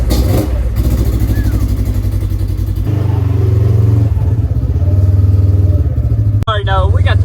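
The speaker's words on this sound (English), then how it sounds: "That GGB is singing." A built engine idles and revs through a GGB exhaust on a cold start in a garage, a loud steady rumble throughout with a brief sharp rise near the end, and voices talking over it.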